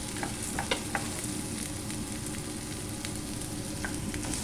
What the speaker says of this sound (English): Now I am going to add the tomatoes